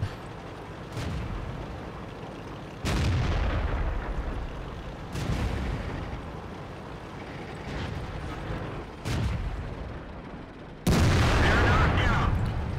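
An IS-3 tank's main gun fires in World of Tanks: several heavy booming shots spaced a few seconds apart, each a sharp blast fading into rumble, with the last one loudest, over a steady engine drone.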